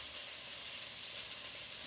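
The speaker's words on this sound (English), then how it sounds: "That's the cabbage I'm frying in the pot." Shredded cabbage frying and steaming together in a pot, giving a steady, close, continuous sizzle and hiss with no voices.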